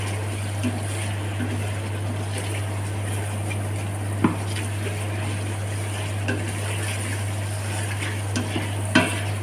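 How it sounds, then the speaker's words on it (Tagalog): Pasta sauce with chicken simmers in a pan while being stirred, a soft steady bubbling hiss with a few scattered scrapes and clicks over a low constant hum, no talking. "Haluin natin hanggang sa magano."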